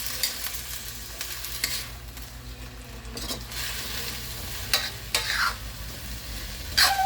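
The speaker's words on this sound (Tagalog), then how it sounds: "Haluin lang natin siya ng haluin." A dish sautéing in a pan with pepper and salt or fish sauce, stirred repeatedly: a loud continuous sizzle with sharp scraping and clinking strokes of the spoon, close by.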